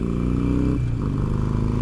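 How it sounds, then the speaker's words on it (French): A Harley-Davidson motorcycle engine at highway speed, a loud, steady low droning roar with a slight pitch dip partway through, heard from the rider's position with no talking. "c'est insupportable en vrai d'avoir la moto qui gueule"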